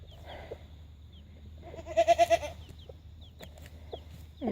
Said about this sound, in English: So I've got two broody hens here.